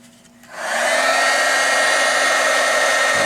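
A heat gun blasts hot air onto the tip of a Pace PRC 2000 soldering station, switching on after half a second into a loud, steady blowing roar that holds to the end.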